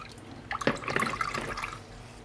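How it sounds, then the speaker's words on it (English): A paintbrush swishes and rinses in a water pot during miniature painting, a short close wet sloshing and dripping burst with no talking. "Give the brush a wash off."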